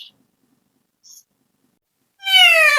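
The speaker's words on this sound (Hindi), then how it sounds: "म्याऊं म्याऊं कर रहा है" A pet cat gives one clear drawn-out meow near the end after near silence with two tiny faint sounds earlier, close and fairly loud.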